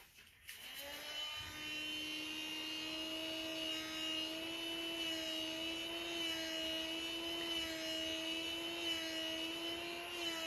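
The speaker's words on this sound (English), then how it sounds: "Just going straight down with my little barbecue blower just to see if I can get some cells popping up in the middle." A small barbecue blower aimed straight down at poured acrylic paint to raise cells, making a continuous whining motor drone with a steady high pitch after a brief start, close and alone.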